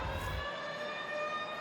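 Halftime siren at a rugby league match between Newcastle Knights and Penrith Panthers, a steady sustained wail heard alone at moderate distance for the whole brief moment.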